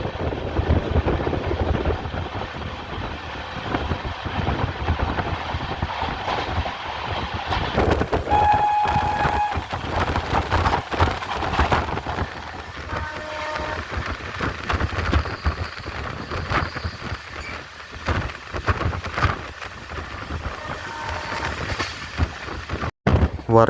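Kerala Jan Shatabdi express running through Varkala Sivagiri station without stopping, a loud steady rumble of wheels and carriages on the rails with a few brief higher rings and clanks, with no talking.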